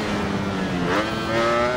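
A Ducati racing motorcycle engine in the Ride 4 video game drones steadily at high revs, its tone shifting as the rider changes speed, loud and alone without talk.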